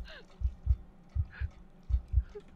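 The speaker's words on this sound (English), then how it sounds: "I can hear a heartbeat." Heartbeat in the video game Ildefonse, a deep thudding lub-dub pulse repeating three times at a steady rhythm, close and prominent over faint background ambience, with no one speaking.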